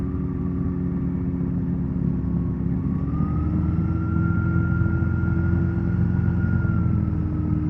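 A CGS Hawk light aircraft engine drones steadily, then throttles up for a go-around, its pitch climbing and holding higher as power increases, loud and continuous with no gaps.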